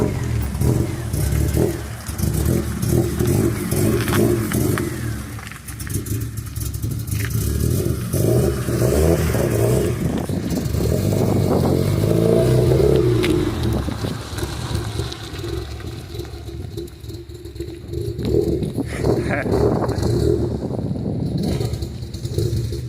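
A Honda EF car engine, smoking heavily, revs and accelerates hard, loud and close, rising and falling in surges with mechanical clatter between pulls.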